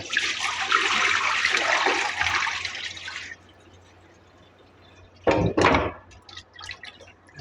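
Running water splashes steadily while raw chicken is rinsed for Saudi-style broasted chicken, a broad rushing flow for a few seconds that stops, followed by a quiet pause and two short sharp bursts of splashing.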